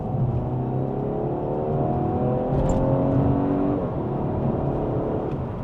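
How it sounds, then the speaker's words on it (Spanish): An Audi A5 Sportback accelerates at full throttle in dynamic mode, its engine note climbing steadily through a long, loud pull with rising harmonics and constant road and wind roar, and no talking. "vamos a hacer las pruebas de aceleración en modo dinámico"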